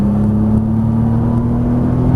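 A Nissan GT-R at full throttle on a race track, its engine giving a loud, steady, close-up roar with a strong low hum that holds without a break and no voices over it.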